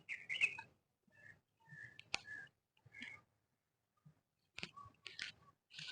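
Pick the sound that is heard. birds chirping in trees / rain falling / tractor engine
birds chirping in trees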